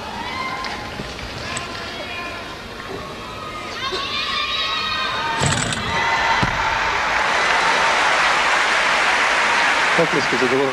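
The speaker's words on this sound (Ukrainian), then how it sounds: "Оплески" A crowd at the 2000 Olympics gymnastics arena breaks into applause after a Chinese gymnast's uneven bars routine, swelling into broad, sustained clapping and cheering beneath a commentator's talk.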